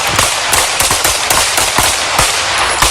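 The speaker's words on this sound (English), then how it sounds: "Shots fired! Shots fired!" Rapid gunfire erupts during an NYPD police crossfire with a suspect: about a dozen sharp, loud shots crack in an irregular, fast sequence, close and echoing, with no talk.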